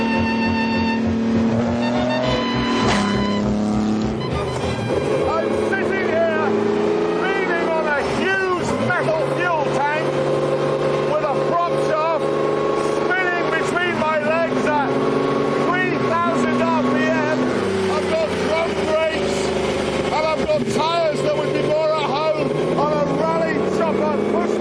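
Maserati 250F Grand Prix race car from the 1950s with a 2.5-litre straight-six engine, roaring loudly as it revs up and down through gear changes, with a commentator's voice running over it.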